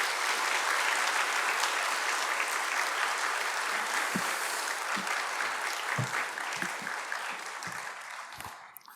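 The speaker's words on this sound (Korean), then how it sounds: "나오실 때 큰 박수로 환영해 주시면 감사하겠습니다." A hall audience at a memorial service for Syngman Rhee's 58th death anniversary, held at a Baptist church, gives sustained applause to welcome a speaker. The dense clapping stays steady, then slowly thins toward the end, with a few louder thumps near the room.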